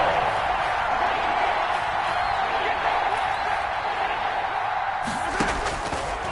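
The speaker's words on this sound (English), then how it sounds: "The crowd getting into it as we come up on a big third down." Stadium crowd in the Madden football video game ahead of a big third down, a dense, steady roar of cheering that swells slightly near the end, with a commentator talking over it.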